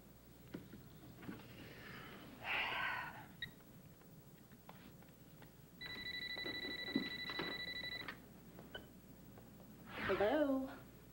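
A phone emits a steady electronic beeping tone for an incoming call, a couple of seconds long and moderately loud, with people speaking before and after it.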